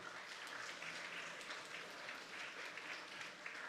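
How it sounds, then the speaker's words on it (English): Faint, distant applause fills a secondary school graduation ceremony hall, a steady rain-like patter of many hands with occasional louder individual claps, continuing evenly without voices. "And now you give a round of applause to everyone who has helped you along the way."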